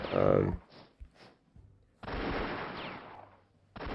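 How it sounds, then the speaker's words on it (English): Artillery and gunfire from the war strategy game European War 4, with a heavy opening blast followed by a few short bursts and a sustained rattling barrage, loud and close with no talk. "apparently my artillery is doing shit all for damage again"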